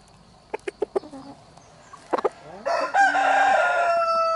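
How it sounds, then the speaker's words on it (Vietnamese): A young fighting cock, a bait-sparring bird, crows loudly and close, with a long sustained call after a few short clucks and squawks at the start. "con gà này mang đi đâu nó cũng gáy"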